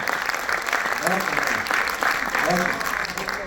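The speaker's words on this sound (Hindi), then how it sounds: "जोरदार तालियां एक बार मजबूती का" Steady audience clapping fills a mushaira poetry gathering in Chandigarh, with a voice speaking briefly over it.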